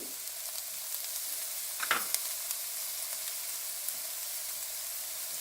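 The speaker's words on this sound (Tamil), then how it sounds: "வெஜிடபிள்ஸ் க்ரன்ச்சியாக இருக்கும் போதே அடுத்தது மஷ்ரூம் லேசாக வதக்குங்க." Mushrooms and vegetables sizzle and fry steadily in a hot pan, with a brief scrape of stirring partway through; no voices.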